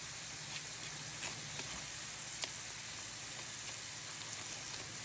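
Butchi rice balls frying in hot oil, a soft, even sizzle with faint scattered pops throughout, no talking.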